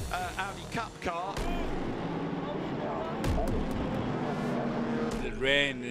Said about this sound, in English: That's the Audi Cup car.